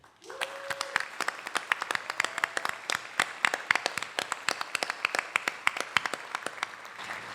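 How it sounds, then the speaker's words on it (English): An audience at a community appreciation celebration claps steadily, crisp individual hand claps in a sparse rhythm from a modest crowd, with a brief voice at the start. "Let's give a huge round of applause for all our departing board and commission members"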